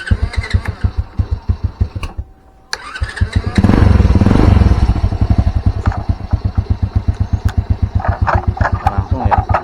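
A motorcycle fitted with a new aftermarket starter motor turns over after a brief silence and fires up, then settles into a loud, close, steady idle with an even rhythmic pulse.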